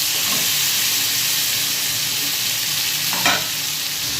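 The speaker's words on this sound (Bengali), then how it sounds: "একটু ভালো করে নাড়াচাড়া করে তারপর নুনটা দেবো" Ridge gourd and potato pieces fry in a pan while being stirred, giving a steady broad sizzle throughout with a brief louder scrape of the utensil near the end.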